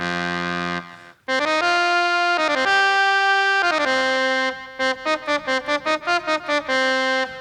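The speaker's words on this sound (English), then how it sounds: "now we're just missing this synth oboe," A reedy synthesized oboe plays a melody, sustained notes giving way to a run of short staccato notes, loud and alone with no talking.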